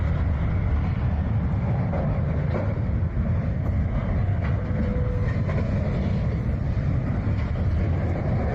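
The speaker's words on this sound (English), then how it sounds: "that train was going fast too" Fast train passing at a crash scene: a continuous loud, rushing rumble with faint rail clatter, steady and close, with no speech.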